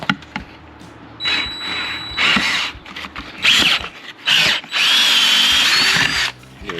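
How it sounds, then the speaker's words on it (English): A power drill with a sharp bit whirs in several bursts of varying length, biting into material with rising and falling pitch between brief pauses, while installing a mechanical fan on a 4.7 Jeep WJ Grand Cherokee. "Make sure you have a sharp drill bit because that'll make this way easier."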